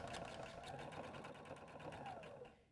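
A sewing machine runs a base stitch through fabric in one continuous, quiet mechanical whir, steady throughout and tapering off at the end.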